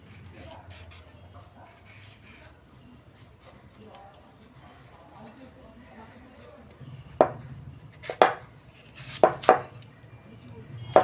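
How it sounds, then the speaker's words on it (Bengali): Mangoes being cut into pieces on a board, faint soft knife taps at first, then several louder sharp chops close by near the end, with a dog and people heard in the background. "আমি আমগুলো সব কেটে নিয়েছি। এই যে এরকম টুকরো টুকরো করে নিয়েছি।"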